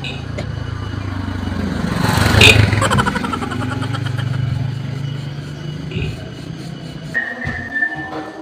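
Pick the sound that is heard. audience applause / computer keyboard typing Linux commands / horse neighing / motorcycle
motorcycle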